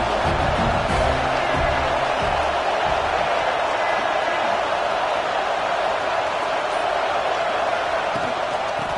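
A packed crowd at a college football game between UCLA and USC roars in a dense, steady wash of cheering and shouting that stays loud and unbroken throughout.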